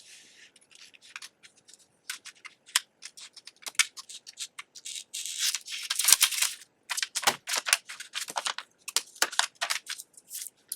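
Sharp scissors snip through a folded fabric pattern piece in quick irregular bursts of crisp, close cuts, growing denser and louder toward the end, with no voices.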